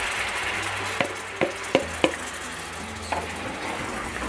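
A low, steady sizzle of tomato paste frying in a pan over a medium flame, with several sharp clinks of a utensil stirring against the pan.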